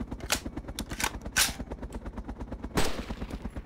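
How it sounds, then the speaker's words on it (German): Rapid video game gunfire, a dense rhythmic burst of automatic shots with a few louder sharp cracks standing out, steady and moderately loud with no talk. "Du hast auf mich geschossen."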